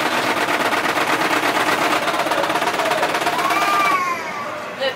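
Rapid machine-gun fire rattles steadily from a video game for several seconds before stopping, loud and continuous, with people talking faintly underneath.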